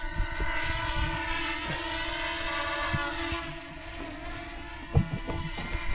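A drone's motors whine steadily with layered buzzing tones over a WW2 bomb crater, holding a constant pitch that shifts slightly, with a few faint knocks near the end.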